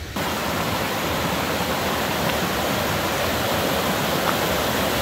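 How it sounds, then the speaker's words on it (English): A mountain stream in Idaho's Sawtooth Wilderness rushes in a loud, steady, unbroken roar of flowing water, close by and with no voices. "That's the stream we're gonna have to cross."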